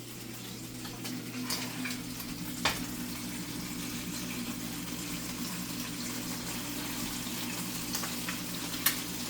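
Eggs frying in a pan for a homemade English muffin breakfast sandwich: a steady, soft sizzle holds throughout with a couple of faint clicks, close, and no one talking.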